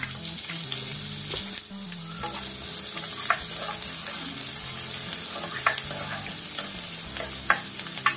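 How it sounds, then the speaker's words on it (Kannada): Onions sizzle steadily in hot oil in a pan as egg fried rice gets started, a loud, continuous crackling fry with occasional sharper pops and scraping stirs, no voices. "ನೋಡಿ, ಎಣ್ಣೆ ಬಿಸಿಯಾಗಿದ್ದ ಕೂಡಲೇ ನಾನು ಇಲ್ಲಿ ಈರುಳ್ಳಿನ ಹಾಕೊಳ್ತೀನಿ."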